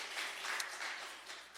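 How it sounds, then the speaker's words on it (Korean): Church congregation clapping to welcome a fourth-grade girl at a Sunday afternoon service, a steady soft patter of many hands lasting throughout, fairly quiet and diffuse with no talk over it. "우리 환영의 박수 한번 칩시다"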